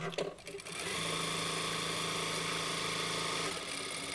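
A sewing machine running steadily while stitching a French-sleeve dress, a loud continuous whirring hum with a few clicks at the start, heard close up and without talk.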